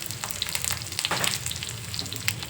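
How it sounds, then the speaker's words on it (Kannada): Cumin, curry leaves and ground spices fry in oil for a pulao, crackling and spitting continuously with dense irregular pops close up. "ಇದು ಸ್ವಲ್ಪ ಎಣ್ಣೆಲಿ ಫ್ರೈ ಆಗಲಿ ಫ್ರೆಂಡ್ಸ್"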